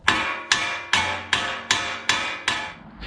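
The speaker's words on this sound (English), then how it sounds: "lightly tap here to disengage the ball joint from the spindle" A hammer lightly taps a vehicle's suspension ball joint to free it from the spindle, giving seven sharp metallic strikes at an even rhythm, close and clear, with no talking.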